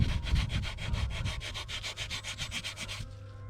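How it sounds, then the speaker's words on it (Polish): The rough side of a sponge scrubs a heavily soiled car wheel rim in fast, steady back-and-forth strokes, a close, rasping rub that stops abruptly near the end. "i tą szorstką jakby stroną zobaczcie powoli jak będziecie to skrobać"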